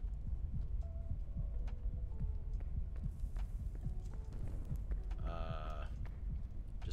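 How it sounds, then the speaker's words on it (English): Heartbeat effect in the ghost-hunting video game Phasmophobia with a mummy mod, a steady low thumping pulse running throughout beneath game ambience and scattered clicks. "Got the heartbeat."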